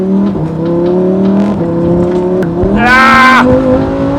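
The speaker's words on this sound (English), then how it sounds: "I'm gonna show you guys what it's like to be driving and accelerating from a standstill" A Lamborghini Huracán EVO RWD accelerating hard from a rolling start, its engine note climbing steadily through gears with brief shift dips, then a loud high rev peak before easing off, close and dominant.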